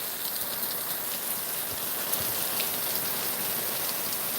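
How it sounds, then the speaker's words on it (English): Heavy rainstorm pouring onto an umbrella overhead, a dense steady patter of drops drumming close and loud without pause. "Yeah, I'm in the middle of a rainstorm, guys. I'm protected by an umbrella"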